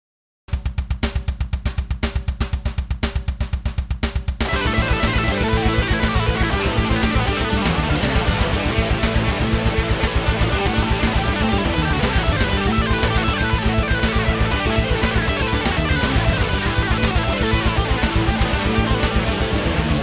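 Electric rock guitar plays a fast two-handed tapping run in A Dorian, opening with a thin rapid tapped pattern alone before a fuller, louder tapped sequence takes over and streams continuously at a steady rapid pulse.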